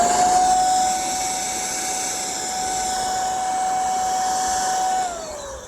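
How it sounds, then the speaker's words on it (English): Little handheld vacuum sucking old sealant out of the roof area of a 1934 Hudson car during roof fabric work, a steady close whine with a high tone that holds evenly, then drops in pitch as it powers down near the end. "I got my little handheld vacuum here."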